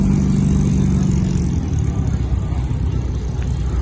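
Several old MG cars from a car club motor past in a steady, loud rumble of mid-range engines, with a denser surge early on before the sound thins slightly, and no talking over it.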